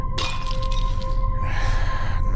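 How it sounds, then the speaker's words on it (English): A glass bottle shatters in the VR game Wanderer, a sudden crash near the start followed by a noisy splash of debris over steady game tones and a low background hum. "Nice shatter to the bottle there."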